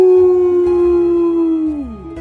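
A single long, clear wolf howl holds a steady pitch, then slides downward and fades at the end, loud and close.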